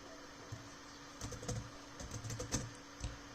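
Code being typed on a computer keyboard, with quiet, irregular key clicks in short bursts, close and soft, and no talking.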